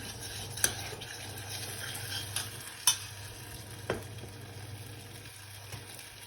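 A milk and corn flour mixture is stirred into butter in a pan: quiet, low background hum broken by a few soft scrapes and taps of the utensil at irregular intervals.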